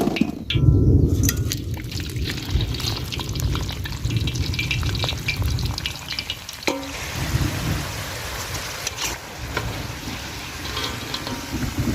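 A batch of homemade French fries fries in hot oil, sizzling and bubbling continuously up close. Occasional stirring scrapes and clinks come through the frying, with no talking.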